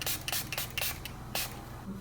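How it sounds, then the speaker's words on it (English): Milani Make It Last Mango Coconut setting spray misting from a pump bottle in several quick bursts, close and loud, each a short bright hiss with a longer spray near the middle. "For the setting spray, I'm going to use the Milani Fruit Fetish Make It Last in the scent Mango Coconut."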